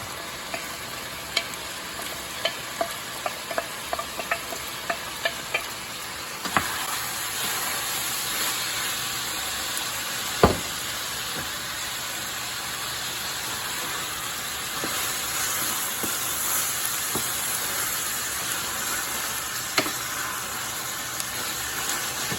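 Peas stirred into pasta sizzling in a hot pan: a steady close frying hiss runs throughout, with light clicks and scrapes of the stirring utensil, mostly early on, and a few louder knocks.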